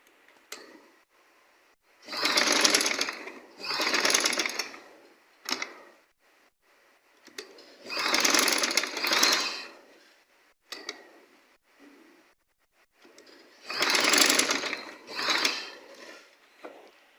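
A sewing machine stitches a kurti neckline in three bursts of rapid whirring runs, separated by quiet pauses with small clicks and handling noises between them.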